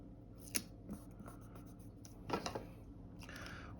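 Scissors snip paper scraps for a Happy Planner layout, a few quiet, sharp close cuts spread across a few seconds with soft handling rustle between them.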